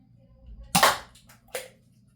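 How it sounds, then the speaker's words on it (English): Foam blaster firing green waffle-head darts at targets: two sharp, close pops about three-quarters of a second apart, each with a brief hiss, in an otherwise quiet room. "Again, shooting 3 of these green waffle head darts."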